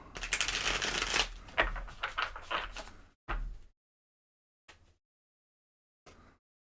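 A deck of tarot cards being shuffled by hand up close, a dense riffling flutter for about three seconds followed by a few short separate card slides and taps, with no talking.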